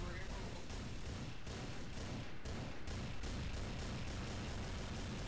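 Rapid gunfire in a Gmod Zombie Escape round as players shoot at swarming beavers, a dense, continuous barrage of shots with little letup, fairly quiet overall.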